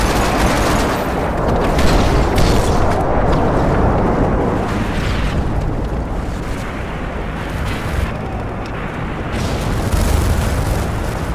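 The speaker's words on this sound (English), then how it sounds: "Friendly airstrike on the way." Airstrike explosions rumble through Call of Duty: Modern Warfare 3 multiplayer on PS3, a loud, continuous wall of overlapping booms and blasts with crackling gunfire layered throughout.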